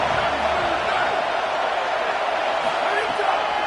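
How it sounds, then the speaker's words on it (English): At a Cornhuskers football game, a packed stadium crowd roars in a dense, constant wall of noise that never lets up. "Listen to this crowd just shaking the girders of this place trying to help their defense"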